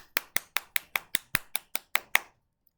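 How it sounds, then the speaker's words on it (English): About eleven crisp, evenly spaced claps from children welcoming a visitor, close and distinct with brief gaps between each, ending in quiet. "Everybody clap."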